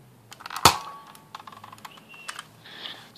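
A NERF Firestrike toy pistol fires outdoors: one sharp, loud snap, followed by light clicks and faint rattling of the blaster's mechanism.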